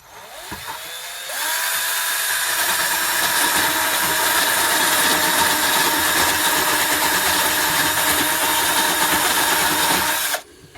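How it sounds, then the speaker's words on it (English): A power drill with a sanding attachment whines up and runs loud and steady for several seconds, grinding down a surface on a boat galley door, then stops abruptly. "I'm going to take a sanding attachment with a drill and just try and flatten them off"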